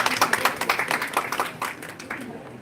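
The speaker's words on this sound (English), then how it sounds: "A round of applause for Ms. Changrani." Conference audience giving a round of applause, a scattered patter of hand claps that stays fairly even before thinning and fading toward the end, moderately distant with no voices over it.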